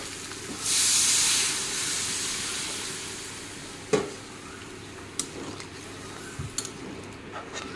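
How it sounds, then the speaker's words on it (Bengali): Water hits a hot pan of fried spices for a Bengali banana stem curry, a loud burst of hissing steam that settles into a softer simmering hiss, broken by a few sharp clinks of a utensil, with no talking. "এখন দিয়ে দিই জল"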